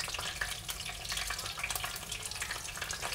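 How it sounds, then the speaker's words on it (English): Fish for tacos frying in hot oil, a steady close sizzle with dense crackling pops running throughout, no voices. "Let us know if you can hear us over the sizzling oil, or we have to speak louder."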